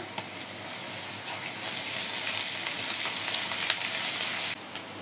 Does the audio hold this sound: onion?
yes